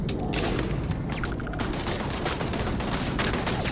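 Dense gunfire in the video game Starfield, a loud, continuous barrage of overlapping shots and booms with mechanical clatter filling the whole stretch, close and heavy.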